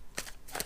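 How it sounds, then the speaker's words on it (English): Tarot cards being shuffled make two quick, close riffling rasps in under a second, with no talk. "I'll shuffle this one more time and then we'll go through it."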